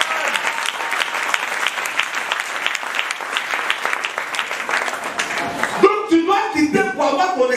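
A church congregation applauds in sustained, dense clapping, fairly loud and close, and then a voice speaks over the fading applause.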